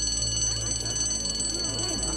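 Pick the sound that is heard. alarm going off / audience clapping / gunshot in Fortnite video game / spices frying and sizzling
alarm going off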